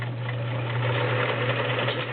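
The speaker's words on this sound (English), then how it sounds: "I'm going to switch over to the multi-point zigzag" A vintage Kenmore model 1660 convertible free-arm sewing machine stitches a multi-point zigzag with a steady, close mechanical whir and a fast, even needle chatter, heard alone.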